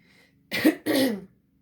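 Two quick, rough throat-clearing coughs, close and fairly loud, with silence before and after.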